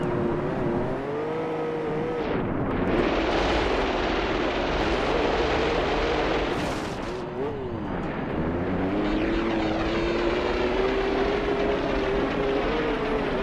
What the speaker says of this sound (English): And we've got a passing jet by the sound of it.